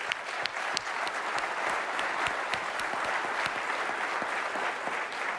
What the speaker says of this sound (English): A round of applause for the customers and partners.